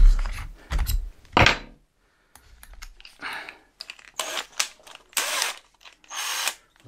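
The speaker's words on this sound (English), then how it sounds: "I'm going to pre-screw these in ready, and it'll make it a lot easier so I don't have to fiddle around" A power screwdriver drives square-drive screws during a storage build, firing in several short whirring bursts with pauses, light clicks and handling noises between them. Nobody speaks.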